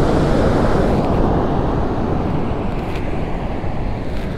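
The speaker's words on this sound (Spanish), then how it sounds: "estas olas, cuando más crecen, estas olas se suben hasta toda esta parte de arriba" Loud, constant rush of Pacific waves breaking on the beach at Oxnard, California, with wind buffeting the microphone and no talking.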